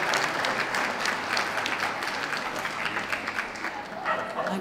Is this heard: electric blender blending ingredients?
no